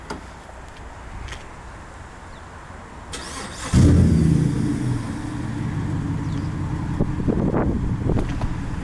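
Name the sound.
2017 GMC Sierra 1500 pickup engine and exhaust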